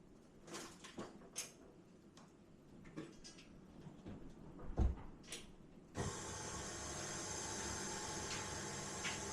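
Mixer with a paddle attachment, starting up after some faint clicks and handling noises, then a steady mechanical whir running on at a constant level until the end.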